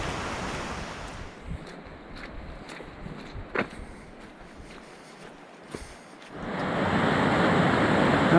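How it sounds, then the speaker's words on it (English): A glacier-fed creek rushes with a steady broadband flow beneath scattered footsteps and knocks, swelling much louder as the water comes close near the end. "this is Cairns Creek, and it's a river creek that's getting fed by a glacier up there"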